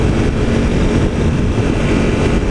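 A Honda CRF 250L dual-sport motorcycle being run hard through the gears on a road, a loud, steady engine roar with wind rush all through and no talk.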